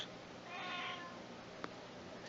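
A single faint, drawn-out meow from a cat rises and fades against quiet room noise, followed by a small click.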